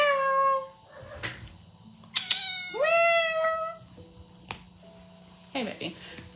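A pet cat meows several times at close range in an indoor room, with rising and falling drawn-out calls spread across a few seconds and someone speaking softly in between.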